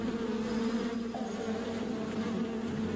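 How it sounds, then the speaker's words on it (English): A dense swarm of stinging bees buzzes continuously, a close, steady drone with overlapping wingbeat tones and no other sounds. "It involved hiding a colony of stinging bees in soldier-like dummies."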